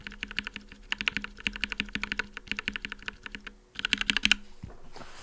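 Rapid typing on a mechanical keyboard fitted with Invyr UHMWPE switch stems, a dense run of soft, lower-pitched, mellow keystrokes with a faint swishing texture, pausing briefly before a final quick burst.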